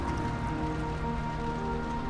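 Rain falls steadily on surfaces during an ordinary evening, a continuous soft patter that stays even throughout with a low background hum and no voices.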